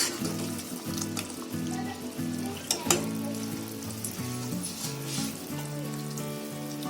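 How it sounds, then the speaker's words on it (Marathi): Pieces of layered dough drop into hot oil and deep-fry with a steady, close bubbling sizzle, occasional sharper crackles and a faint melodic tune underneath. "इथे आपलं तेल पण तापलाय. आता तेलामध्ये सोडते."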